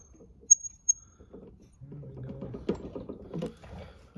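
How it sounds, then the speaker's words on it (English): A hand ratchet turns a 16 mm 12-point socket on the kingpin of a 1960 VW Beetle, making a short run of close, clicking pawl ticks after a couple of sharp metallic taps. "I've got a 16 mil 12-point socket on this guy."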